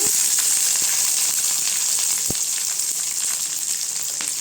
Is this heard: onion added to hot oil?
yes